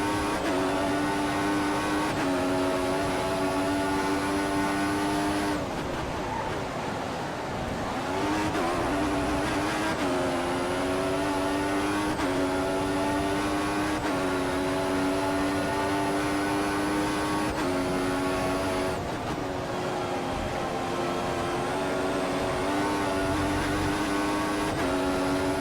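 Formula 1 race cars in the F1 2014 video game, including a Mercedes-powered McLaren at the Australian circuit, hold a loud, continuous high-pitched engine whine that shifts pitch steadily through gear changes for the whole stretch.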